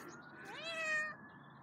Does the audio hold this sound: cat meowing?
yes